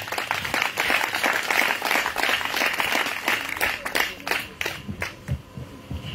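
A church congregation at a praise and worship service in Korhogo, Côte d'Ivoire, applauds in a sustained wash of clapping that thins toward the end, with scattered voices mixed in.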